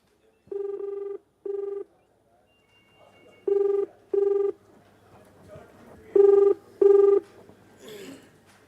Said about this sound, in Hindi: अब सहारनपुर के जो एसएसपी हैं मनोज तिवारी, उनको फ़ोन कर लेते हैं और देखते हैं उनसे बात हो पाती है